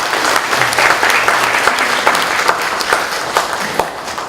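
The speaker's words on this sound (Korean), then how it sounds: "우리 격려의 박수 한번 부탁드리겠습니다." A congregation at a church worship service gives encouraging applause, many hands clapping in a continuous, even roar that holds steady and loud from start to finish without speech.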